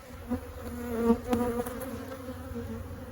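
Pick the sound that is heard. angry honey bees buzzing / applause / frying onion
angry honey bees buzzing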